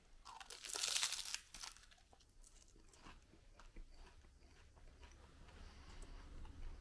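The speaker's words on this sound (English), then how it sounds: "It's got a nice crunch," Original-flavour Triple M seaweed sticks, a crisp snack, crunching loudly in a burst of close bites near the start, then quieter chewing and rustling with no talking.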